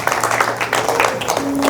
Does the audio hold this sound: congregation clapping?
yes